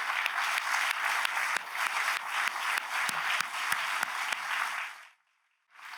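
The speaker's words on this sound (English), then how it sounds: "Let's give them another round of applause." An audience at an awards gala applauds in a dense, even wash of clapping with sharper individual claps, then the sound drops to near silence just before the end.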